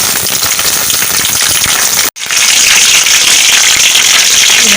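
Cumin seeds and three Kashmiri chillies hit hot tempering oil for a toor dal and ivy gourd kootu, giving a loud, steady crackling sizzle close by that cuts out for a split second midway.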